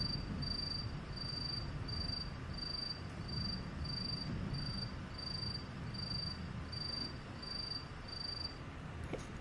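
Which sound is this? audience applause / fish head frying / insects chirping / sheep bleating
insects chirping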